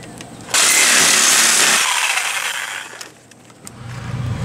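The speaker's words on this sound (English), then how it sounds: "Then we gotta cut this bottom board along here," A power saw bites loudly into an RV's inner paneling board, cutting the bottom board level with the outer metal skin in one sustained burst of whining and rasping before it winds down to quieter handling noise.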